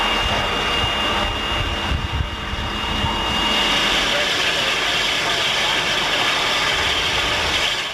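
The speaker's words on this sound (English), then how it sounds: "the two engines run around to the other end of the train" Two railroad locomotives of the Yreka Western run around to the other end of their train, giving a steady, loud mechanical rumble and clanking drone that continues throughout.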